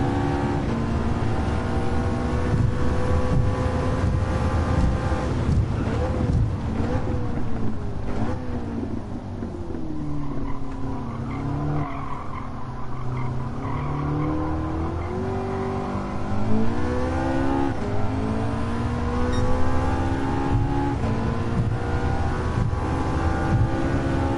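Racing car engines in Gran Turismo 7, including a Mazda RX-7, whine continuously at high revs. Pitch rises and falls through gear changes, with wind noise over a loud, sustained drone.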